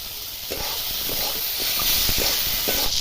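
Crabs go into a pan with salt and turmeric, alongside eggplant and greens, giving a steady close hiss and sizzle with a few soft clattering knocks as pieces land and shift.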